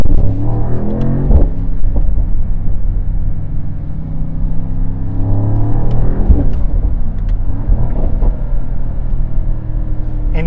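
Mercedes-AMG SL 63 with its V8 biturbo engine after a downshift, a loud low rumble rising and falling with throttle, heard from the cabin under a faint voice.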